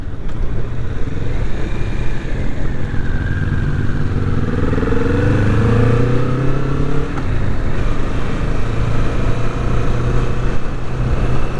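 A 2021 Kawasaki Vulcan S cruiser motorcycle being ridden, its engine droning steadily and loudly with shifting revs and wind rush, close and continuous with no talk.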